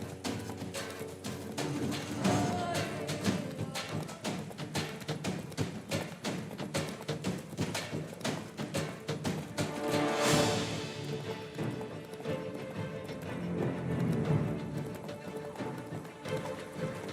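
Hooves of a galloping horse in The Witcher 3 video game, a fast, continuous clip-clop rhythm with a brief snort or whinny midway, heard amid game ambience and music.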